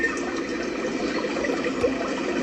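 A sleep sound machine plays a steady, even wash of flowing water, continuous and moderately loud for the whole stretch with no talk.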